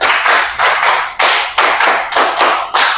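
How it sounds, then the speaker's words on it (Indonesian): Hands clap in a classroom clapping game, producing sharp, loud bursts of claps in quick clusters, about six groups in a rhythmic pattern, heard close with no talking. "tepuk tangan"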